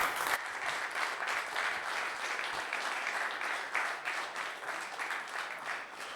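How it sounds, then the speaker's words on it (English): Steady, fairly close applause from a conference audience at a data and AI leadership event, continuous clapping for several seconds after a panel presentation. "I would like to have a big applause for our presentations"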